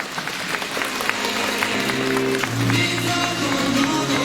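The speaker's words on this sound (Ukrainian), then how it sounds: "виходьте до нас під шалені аплодисменти і вдячність усіх глядачів" An audience at a patriotic concert in Slavuta, Ukraine, breaks into loud, sustained applause, dense clapping continuing steadily with crowd noise throughout.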